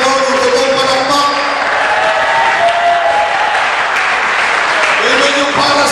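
Steady clapping from a church congregation during a Sunday worship service fills the space, a loud continuous patter with voices and tonal sounds mixed in on top.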